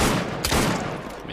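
Gunfire in the video game Assassin's Creed Syndicate, a quick loud crackling burst of shots heard close up for just over a second.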